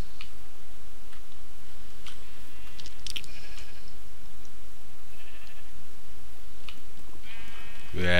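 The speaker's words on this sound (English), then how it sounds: "Hey sheep, how you doing?" Sheep bleating in the Minecraft video game, a few short distant bleats scattered over a soft noisy background, with a clicking tick near the end.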